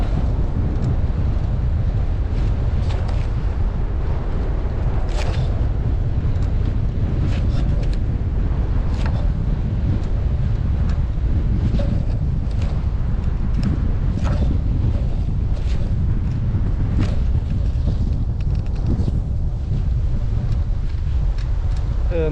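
Steady wind roars into a microphone while cycling along village lanes and alleys in rural Japan, where gusts funnel through a tunnel opening; broadband rushing noise fills the whole stretch, near and loud, with brief knocks and clatters scattered through it.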